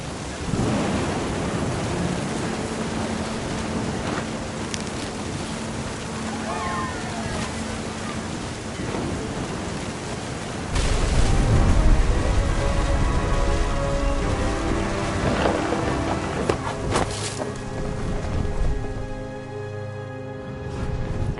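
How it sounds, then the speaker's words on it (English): Rain and rumbling thunder roll through What Remains of Edith Finch beside the sea, a loud continuous wash with a heavy thunderclap surge midway, and a voice narrating over parts of it. "The thunder sounded much too close and full of angry power."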